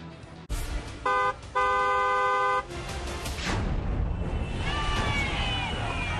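A car horn honks in a short toot, then a long sustained blast, followed by traffic rumble and another distant horn.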